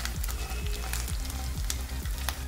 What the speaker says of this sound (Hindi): लो मीडियम फ्लेम पर धीरे धीरे फ्राई करते रहेंगे